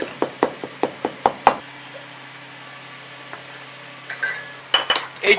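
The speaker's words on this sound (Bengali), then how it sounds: "আমরা ছুরিতে মিশিয়ে দিলাম।" A knife clinks and knocks repeatedly against a metal bowl or plate while mixing kofta kebab mixture, a quick run of bright taps, a pause with faint hum, then a few more clattering knocks.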